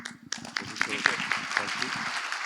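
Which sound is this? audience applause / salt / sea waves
audience applause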